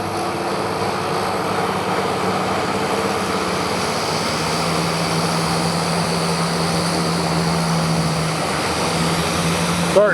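A float plane's propeller engine runs at Brooks Camp in Katmai as the plane readies for takeoff, a steady droning hum with a low tone held throughout, fairly loud and close.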